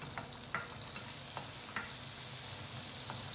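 Butter and about a tablespoon of olive oil stirred together in a pan over low heat, a steady quiet sizzle with a few light spoon scrapes scattered through, no talking.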